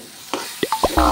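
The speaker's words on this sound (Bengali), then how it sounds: "এটা এখন ভালো করে কষাবো আমি।" Taro greens with prawns are stir-fried in a pan: a few quick, close scraping stirs in a short series over a faint sizzle.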